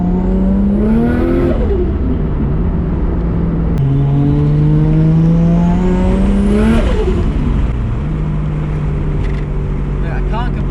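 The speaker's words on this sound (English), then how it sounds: "That raspy exhaust note is still there" Nissan R33 race car with a raspy exhaust note, loud and close, revving up and down through several gear changes over a steady engine drone.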